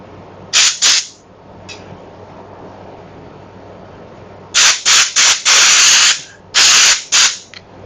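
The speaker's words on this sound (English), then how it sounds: "Air nozzle it is." Compressed air hissing from an air nozzle as it is used to work a grip off an e-bike handlebar, loud, close sharp bursts, one short pair early, then a cluster of longer blasts in a workshop.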